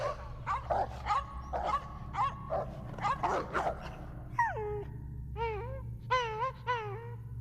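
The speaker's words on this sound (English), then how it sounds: "And then the barking stopped." Several dogs bark and yip in quick bursts, then shift to high, wavering whines and howls, fairly close over a low hum.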